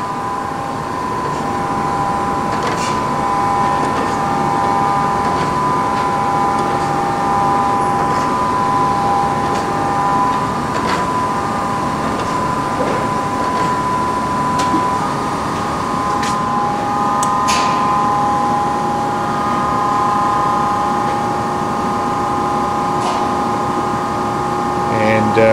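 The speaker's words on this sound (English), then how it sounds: "It's a heavy-duty, rugged machine, well-built, as most people are familiar with the Brown & Sharpe Micromaster machine." A Brown & Sharpe 1236 Micromaster hydraulic surface grinder runs with a steady, even hum and a constant tone, occasional faint clicks, and someone talking over it.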